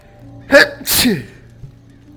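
A single sharp sneeze is heard in the VR video game The Walking Dead Saints & Sinners, a quick two-part burst of breath and release, fairly loud and close, with nothing else around it.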